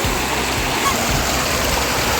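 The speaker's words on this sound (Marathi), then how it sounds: "तर आम्ही इथं बसलेलो आहे नर्मदा नदीच्या सहस्र वॉटरफॉल" The Narmada river rushes over the Sahastradhara waterfall, producing a loud, continuous roar of churning, splashing water that stays steady throughout, with a voice faintly audible beneath it.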